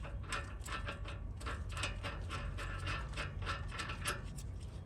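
A ratchet wrench tightens a suspension bolt on a second-generation Toyota Sequoia. Its rapid pawl clicking is steady and fairly quiet over a low background rumble, and no one speaks.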